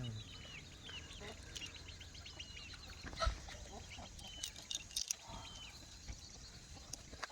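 Roosters on a farm, two tall long-legged, long-necked free-range country cockerels, with faint clucks and calls scattered across a busy outdoor background, fairly distant and soft.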